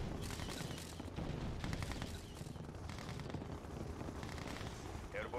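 Airborne artillery in the Red Alert 2 strategy game unleashes continuous, dense gunfire and explosive booms, with rapid volleys overlapping throughout amid a loud battle din.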